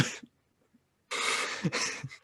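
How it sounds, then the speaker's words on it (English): A person clears their throat briefly at close range, a short rough burst followed by silence, then a longer harsh series of throaty rasps with small pauses between them. "me clearing my throat"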